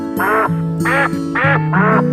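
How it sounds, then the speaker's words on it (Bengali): Ducks in a quiet Dutch village quack loudly and close, four distinct nasal quacks in an even rhythm with overlapping calls beneath. "সবচাইতে জোরে যে শব্দটি শুনতে পাওয়া যায় তা হলো হাঁসের ডাক"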